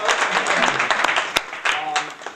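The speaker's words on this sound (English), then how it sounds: "a big round of applause for that" Applause from an audience at an outdoor groundbreaking ceremony for the Morganza Georgetown project, a crowd clapping steadily with chatter mixed underneath and a few sharper claps standing out.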